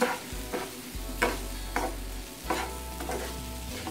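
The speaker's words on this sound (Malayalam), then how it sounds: "ഇതിലേക്ക് രണ്ട് ടേബിൾ സ്പൂൺ ഷുഗർ ചേർത്ത് കൊടുക്കുക ഇനി ഇതൊന്ന് മിക്സ് ചെയ്ത് കൊടുക്കാം" A spoon scrapes and stirs chopped jackfruit with sugar in a pan over low heat, giving repeated soft scraping strokes over a faint sizzle, close and fairly quiet.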